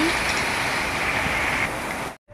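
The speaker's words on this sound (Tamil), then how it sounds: "காலையிலேருந்து நல்ல மழை இப்போ தான் லைட்டாக விட்டுருக்கு" Steady heavy rain in Chennai hisses continuously, close and even, then cuts off abruptly near the end.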